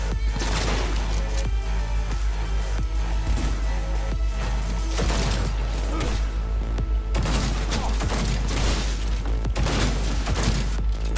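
Rapid bursts of gunfire in the video game Cyberpunk 2077, dense and loud over a constant low hum, with overlapping shots and booms throughout.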